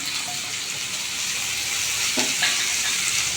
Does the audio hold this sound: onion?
yes